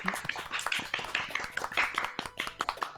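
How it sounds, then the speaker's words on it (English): A small group claps briskly for a few seconds, uneven sharp hand claps close by, fairly loud. "Everyone give an applause."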